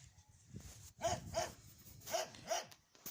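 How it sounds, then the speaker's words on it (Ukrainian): A farmyard guard dog barks four times at a moderate distance, with a short pause between the pairs of barks, against quiet outdoor background sound. "Песик наш он гавкає, Масік."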